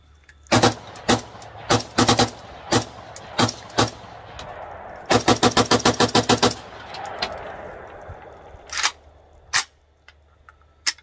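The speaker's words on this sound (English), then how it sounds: "I've done 3 mag dumps at this point." An M+M M10 rifle fires outdoors, first in loud, irregular single shots, then in a rapid string of about a dozen shots, followed by a few more spaced cracks.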